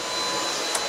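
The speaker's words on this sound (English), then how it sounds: "Now the wife is going crazy with the vacuum." A household vacuum cleaner runs steadily in a home, a loud continuous whooshing drone heard close up with no voices over it.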